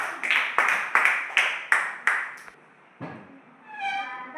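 Children in a classroom clap in slow unison, about seven sharp, evenly spaced claps, before falling quiet, followed by a short thump and a high tonal sound.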